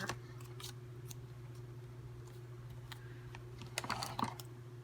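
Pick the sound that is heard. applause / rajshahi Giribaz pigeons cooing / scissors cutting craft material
scissors cutting craft material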